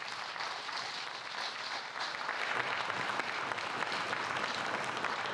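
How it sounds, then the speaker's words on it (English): Sustained audience applause fills an awards ceremony for high school sports players of the year, a steady dense clapping that stays loud and even throughout with no voices on top. "So give him a round of applause as well as our other finalists."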